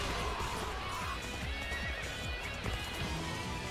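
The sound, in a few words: horse neighing and galloping in video game Dynasty Warriors 3 Remaster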